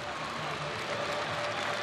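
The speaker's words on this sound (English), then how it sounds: "She goes across and she takes the applause" Parisian supporters of Paris Saint-Germain applaud steadily inside a Cardiff stadium at the 2017 UEFA Women's Champions League final, producing a broad, even wash of distant clapping and crowd noise for about two seconds.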